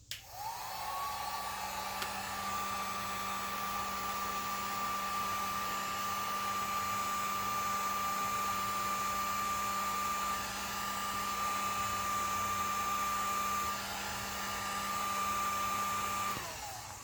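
A heat gun blows hot air on guitar binding, spinning up at the start into a long, steady whining blower tone with a rushing airflow, then cutting off near the end; close and alone.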